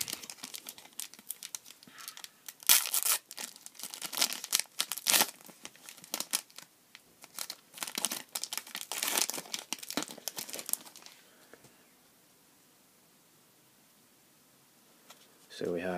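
A Panini Prizm World Cup 2014 card pack is ripped open close by, with bursts of foil crinkling and tearing over about ten seconds, followed by a quiet stretch.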